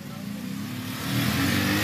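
A car engine hums and revs amid a road traffic jam, a low steady drone that swells louder toward the end, with no one talking.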